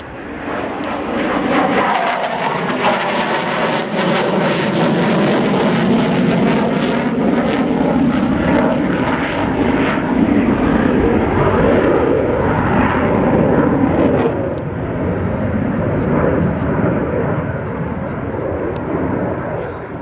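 A Sukhoi Su-22 Fitter jet thunders past at the RIAT 2014 air show, a loud sustained roar that swells and fades as it passes, with faint crowd or commentary sounds mixed in.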